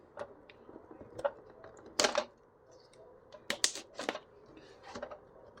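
Tape is pulled and peeled off a Koss SP330 headphone package in short, sharp bursts of crackling and ripping, irregular and close, with quiet gaps between.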